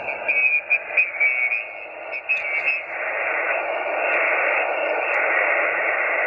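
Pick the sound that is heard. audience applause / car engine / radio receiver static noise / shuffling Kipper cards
radio receiver static noise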